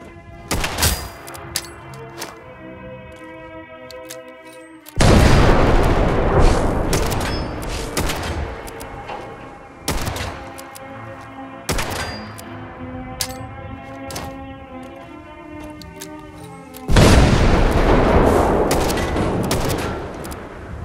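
Rapid shots from a six-shot revolver rifle in Fallout 4 ring out loud and close: bursts of cracks with brief gaps between them, then a long rolling volley of fire. Faint metallic clicks sit between the shots.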